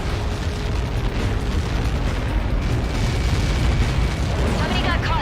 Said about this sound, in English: Somebody got caught in that explosion.